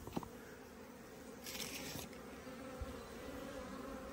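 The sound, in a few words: honey bees at a nuc hive feeder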